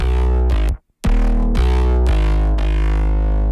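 A bass line run through a Decapitator distortion plugin for a remix plays loud, gritty, sustained notes in a rhythmic pattern, broken by one short silent gap, with no talking.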